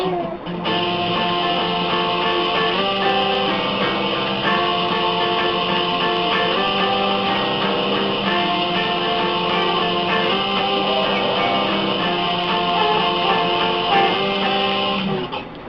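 A guitar riff rings out steadily with sustained chords and gliding note changes, played alone without any talking throughout.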